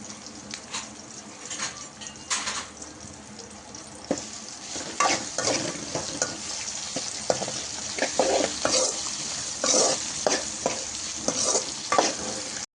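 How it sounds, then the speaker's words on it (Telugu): Sliced onion and green chillies frying in oil in a pan, with a continuous sizzle and bursts of scraping as they are stirred, close and fairly loud, with no talking. "ఇలా ఉల్లిపాయ, పచ్చిమిర్చి బాగా ఫ్రై చేసుకోవాలండి."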